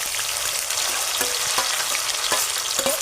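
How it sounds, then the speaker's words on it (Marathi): Garlic, sliced onions and tomato fry in hot mustard oil, giving a loud, steady sizzle with crackling pops and a few sharp stirring clinks close by, with no talking. "आता मी टाकतो लसूण, एक ते 2 चिरलेले उभे कांदे आणि तसाच टोमॅटो टाकतो."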